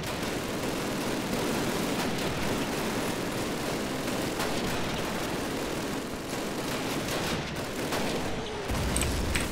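Gunfire in a Call of Duty World War II battle with German soldiers, dense rapid shots and bursts rattling almost without pause, steady and moderately loud throughout.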